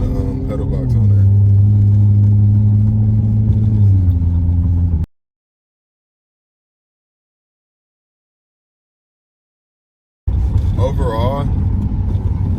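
A V6 Dodge Charger fitted with a pedal box accelerates with a loud, steady engine drone that climbs briefly, cuts to silence for about five seconds, then returns with a wavering, revving tone.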